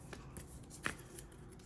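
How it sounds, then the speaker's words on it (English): A starter deck of cards from the Slay the Spire board game gets a quick, quiet shuffle, heard as one brief soft riffle in the middle of near silence. "You're going to take the Ironclad starter deck, give it a quick shuffle"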